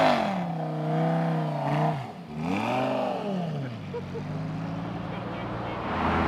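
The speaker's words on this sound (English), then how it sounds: "He's gonna rev it when he pulls out," A V10 sports car engine at a Cars and Coffee meet in San Antonio, Texas, revs with rising and falling pitch as it pulls out, a steady droning note close by and loud throughout.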